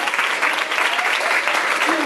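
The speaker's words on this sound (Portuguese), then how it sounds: "Aplauda mais forte!" An audience at a church theatre performance claps hard and continuously, thick crowd applause that stays close and even from start to finish.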